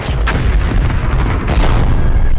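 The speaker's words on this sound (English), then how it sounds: "For more than an hour, Confederate guns pound away at the Hornets' Nest." Civil War Confederate artillery cannons fire in a sustained barrage at Shiloh, a dense, continuous rumble of heavy booms blending together, loud and unbroken throughout.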